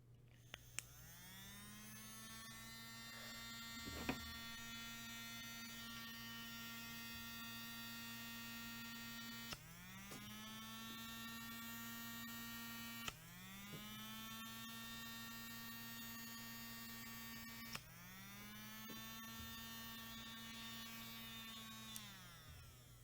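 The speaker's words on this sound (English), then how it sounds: "This is a little brushed DC motor from Amazon" A small brushed DC motor spins a flywheel for Nerf discs, faint and close, whirring up in pitch four times and holding a steady buzzing hum between spin-ups.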